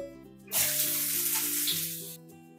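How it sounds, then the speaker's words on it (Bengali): Chopped cauliflower stems hitting hot oil with chilli and nigella seeds, a loud hissing sizzle that bursts in suddenly, holds for over a second and then fades back under a faint background tone. "ফোড়ন থেকে সুন্দর স্মেল বেরোলে দিয়ে দেব কেটে রাখা সবজিগুলো।"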